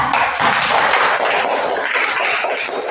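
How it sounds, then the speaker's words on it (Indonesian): A classroom full of students applauds a presenting group, the dense, steady clapping filling the room for a few seconds without a break. "kita berikan tepuk tangan untuk kelompok 4"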